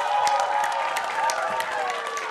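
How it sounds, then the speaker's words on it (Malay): Studio audience at the children's singing show Idola Kecil 3, a short burst of cheering, clapping and excited shouts over a bright musical backdrop. "Dengar sajalah sorakan mereka sini, terhibur."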